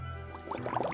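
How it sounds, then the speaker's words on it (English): Water poured into a plastic Magic Mixies toy cauldron, a short gurgling, bubbling splash that rises in loudness over under a second. "Start your potion by adding water."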